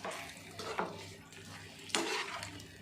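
Spoon stirring cauliflower through masala in a pan for gobi manchurian, giving soft scraping and sizzling with two sharper clanks against the metal, close and steady with no talking.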